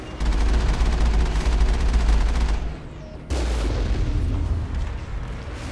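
Turret gunfire in the Mass Effect video game comes as loud, dense automatic fire with heavy booming impacts, breaking off briefly before a second sustained burst that slowly fades, with no voices.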